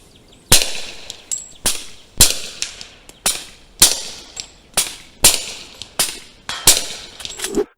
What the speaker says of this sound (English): roll some footage of this pistol shooting the exact same ammo with the exact same suppressor